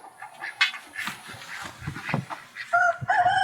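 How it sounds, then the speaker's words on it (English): Chickens on an off-grid homestead cluck and squawk close by in a busy, overlapping jumble, and a rooster lets out a drawn-out crow toward the end. "We have chickens"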